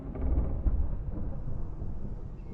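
Thunderstorm in Alan Wake, a deep low rumble of thunder rolling loud at first and then settling into a sustained dark roar.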